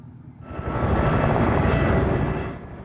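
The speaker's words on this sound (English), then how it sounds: "The attack helicopters overhead" Attack helicopters flying overhead during the 2003 Iraq war, a loud rushing rotor-and-engine roar that swells in, holds steady and fades after a few seconds.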